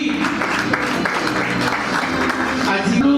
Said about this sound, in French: Voilà, ça s'applaudit.